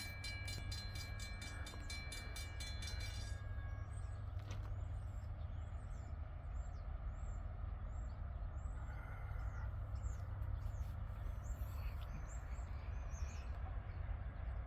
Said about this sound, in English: here comes our next train. This is M560 coming from over here.